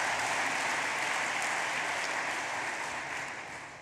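Audience clapping at a Scottish National Party conference session, a broad wash of applause that stays steady and then fades slightly toward the end.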